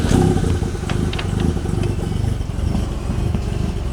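An engine running after a cold start with no throttle, giving a loud, close, uneven idle with a rapid chugging and clattering pulse that continues steadily with no one talking.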